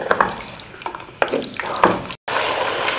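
Beef with garlic and ginger sears in a pan over full flame, a steady close sizzle broken by short scraping stir strokes, with one brief dropout near the end.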